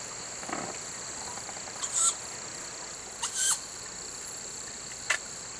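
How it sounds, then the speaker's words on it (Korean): A young owl chick calls at night in the forest of an ancient temple, three or four short, high rasping cries spaced a second or more apart over a steady drone of insects. "한 달의 보살핌 끝에 둥지를 떠날 때가 임박한 새끼 올빼미."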